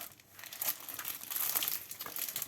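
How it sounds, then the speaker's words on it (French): Paper crinkles and rustles close up in uneven bursts, soft crackling handling noise rising and falling over a couple of seconds, with no speech. "pardon pour le bruit des papiers"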